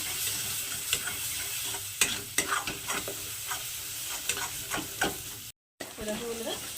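Chicken masala with coriander powder and turmeric being sautéed: a continuous sizzle with frequent scraping stirs of a spatula, close and fairly busy, broken by a brief dropout near the end.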